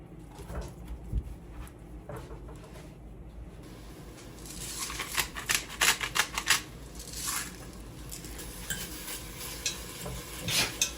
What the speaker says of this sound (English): We're gonna saute the ground beef and add the onion, carrot, and celery mix